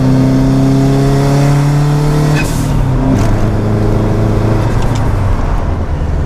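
A 370bhp Subaru Impreza WRX engine picks up power after a gear change, a loud, close drone with harmonic tones that drop and shift as throttle comes back on, with no talking.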